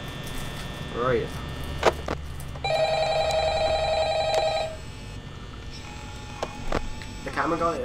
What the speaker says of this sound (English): The phone guy's ringing again